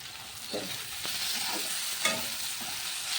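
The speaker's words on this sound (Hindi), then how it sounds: "इसको हल्का सा फ्राई करूँगी, फिर ये पेस्ट और मसाला दूँगी।" Spices, including turmeric, fry in a pan, giving a steady close hiss with soft stirring scrapes and a few light knocks of the utensil, no speech.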